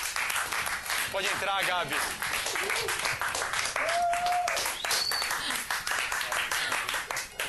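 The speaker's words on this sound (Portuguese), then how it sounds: "Reinaldão, por favor, aplauda" Studio audience on a Brazilian TV variety show claps in bursts as a guest is welcomed, with a host talking over the applause and a brief whistle-like tone in the middle.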